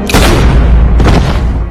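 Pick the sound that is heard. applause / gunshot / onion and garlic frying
gunshot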